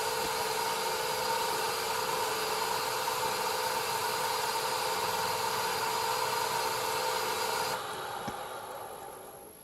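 Steady whirring drone of a wood lathe running while a turned piece is buffed with microcrystalline wax, continuous and fairly even before easing off and fading near the end.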